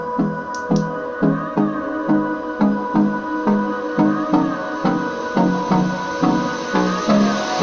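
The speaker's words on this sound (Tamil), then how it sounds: "இப்போ நம்ம இந்த ஸ்பீக்கரை சவுண்ட் டெஸ்ட் பண்ண போகிறோம்." Music played through a homemade low-budget Bluetooth speaker, a steady rhythmic beat with regular pulses and sustained tones, fairly loud and close with no talking.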